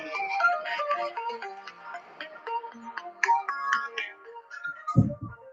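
A phone ringtone plays a bright, repeating melodic tune of quick notes at moderate loudness, continuing for several seconds, with a short thump near the end and no talking over it.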